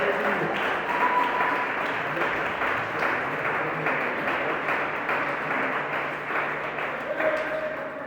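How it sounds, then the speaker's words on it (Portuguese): A church congregation claps steadily and loudly for several seconds while a voice speaks over the applause. "Mais forte as palmas."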